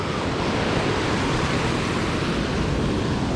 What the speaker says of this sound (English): Look at this big waves.